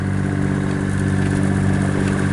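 A sailboat's engine runs steadily while motor sailing with the mainsail out, a constant low droning hum with a faint mechanical clatter, close and unchanging throughout.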